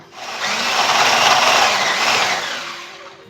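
An electric mixer whirs steadily through cake batter for a honey-layer snickers cake, a loud, continuous buzzing drone that starts abruptly and fades out near the end.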